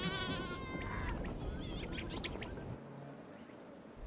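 Sheep and goats herded by pastoralists in flowering Namaqualand bleat in a few quavering calls up close early on, with fainter bleats and bird-like chirps following before things quiet down.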